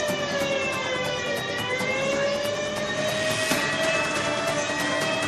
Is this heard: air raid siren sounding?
yes